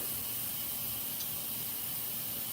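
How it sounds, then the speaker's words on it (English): Steam hisses loudly and steadily from a pressure cooker as its pressure is released, a continuous breathy rush with no pauses. "we just releasing the pressure off the pressure cooker to get the steam to come out"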